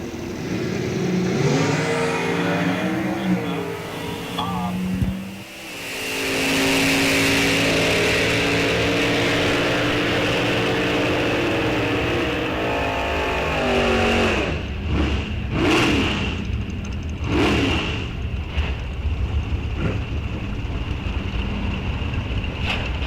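Oldsmobile and Pontiac drag race cars launch and accelerate hard at an NHRA National Open, the roaring engines sweeping upward in pitch before fading, then sharp gear-change bursts and wind noise follow, with no talking.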